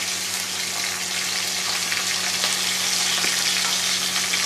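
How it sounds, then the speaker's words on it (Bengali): Chopped onion frying in a pan gives a steady, dense sizzle throughout, close and fairly loud with faint stirring underneath and no voices. "পেঁয়াজটা ভাজা হবে।"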